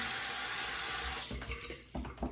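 Water runs from a bathroom sink tap in a steady hiss that then breaks up into splashes and drips as it is shut off or interrupted.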